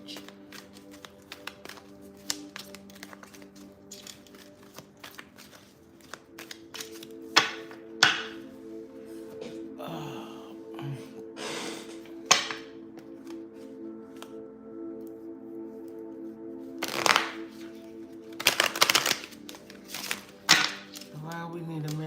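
Cards are riffled and tapped in several short bursts, with soft knocks and shuffling scattered among quiet pauses and a low hum.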